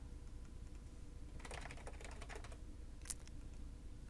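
Quiet burst of keystrokes on a computer keyboard as login details are entered, faint rapid clicks over a low room hum, ending with a sharper single key press.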